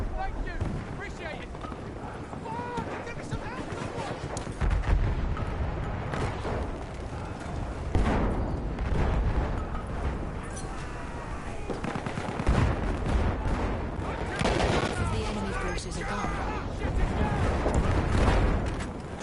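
Continuous battlefield gunfire in the World War I shooter Battlefield 1, with rapid machine-gun bursts and rifle shots mixed with explosions and booms, loud and dense throughout, with voices talking over it.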